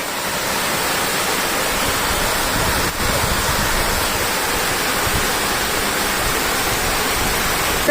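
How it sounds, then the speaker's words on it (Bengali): A waterfall at Lonavala rushes during rain, a loud, dense, steady roar of falling water that fills the whole stretch evenly with no voices. "দেখো কি সুন্দর ঝর্ণা"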